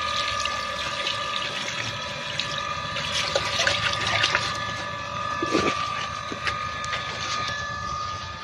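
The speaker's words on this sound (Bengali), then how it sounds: "ধুয়ে নিয়ে একটু কল থেকে।" Tap water runs steadily over freshly picked jujube fruit being rinsed outdoors, a continuous close splashing stream with small knocks of fruit and hands throughout.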